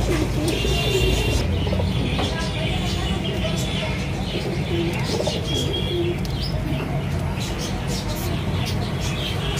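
King-size pigeons, including Kalsare and Khatan breeds, coo softly among steady chirps and rustling, with a constant busy background murmur throughout; the cooing is low and somewhat buried.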